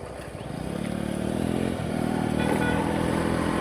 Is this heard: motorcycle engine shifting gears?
yes